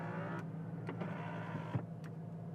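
A 1988 Ford Mustang GT power window motor whirs with a steady, close, low hum for a couple of seconds. It is faint and steady, with no talking.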